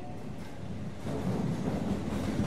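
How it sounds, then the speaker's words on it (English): A train pulling out of a station: a steady low rumble that swells after the first second, with soft rolling rail noise close by and no voices. "The train left the station."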